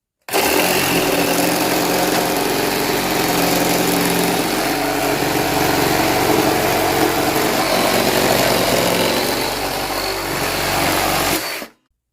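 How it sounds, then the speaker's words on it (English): A Milwaukee one-handed reciprocating saw fitted with an aggressive pruning blade runs loud and close, cutting in one continuous, even buzz for about eleven seconds before stopping abruptly. "We got Flex and Milwaukee one-handed reciprocating saw battle. Milwaukee goes first. Really aggressive pruning blade."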